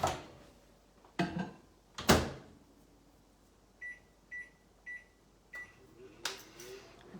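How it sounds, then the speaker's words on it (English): Microwave oven heating a chocolate coating for homemade magic shell, with loud door and handling knocks early on, then four short evenly spaced beeps near the end followed by more clatter. "okay, 10 more seconds in the microwave and I think we'll be gold."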